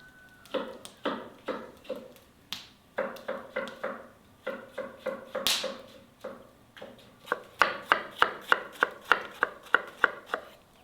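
A knife chops a tomato steadily on a cutting board, dozens of quick close strikes in bursts with brief pauses, crisp and fairly loud.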